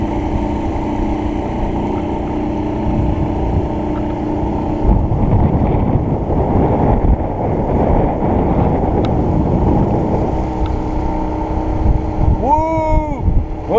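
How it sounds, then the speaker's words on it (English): Wind buffets a microphone on a boat out on the water, a loud continuous rumble and roar that gusts unevenly throughout, with a brief whistling tonal sweep near the end. "We got some wind, I know that."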